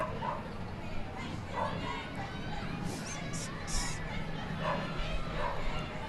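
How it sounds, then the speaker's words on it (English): Dogs bark in scattered bursts some distance away at a Christmas parade, faint against a steady outdoor background with a murmur of people. "I hear dogs barking."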